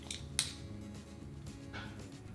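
Metal spoons scrape and clink against each other and a baking tray while scooping chocolate chip cookie dough, with a sharp clink near the start and a few softer taps and scrapes following in a quiet kitchen.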